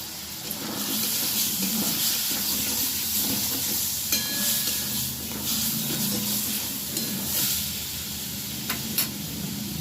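Ground cumin, coriander and turmeric with onion paste fry in a pan for a shrimp, bottle gourd and potato curry, giving a steady close sizzle and hiss with faint scraping of stirring, no voices.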